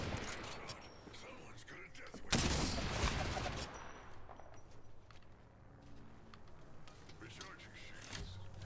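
Bursts of automatic gunfire in Apex Legends during a firefight behind a rock, a sharp loud volley around the middle followed by scattered shots and clicks, with players talking over it.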